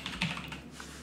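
A computer keyboard key tapped once or twice, quiet and close, a short plastic click against a low steady hum, with no voices.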